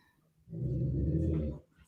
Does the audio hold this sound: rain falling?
no